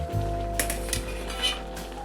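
A metal lid lifted off a pot of boiling greens, moringa leaves and water lily, makes a few short metallic clinks over a low, steady cooking hum.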